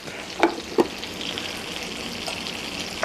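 Vegetables sizzle steadily in a hot pan while chicken parmesan is being made, a constant crackling fry broken by a few sharp clinks of a utensil against the pan.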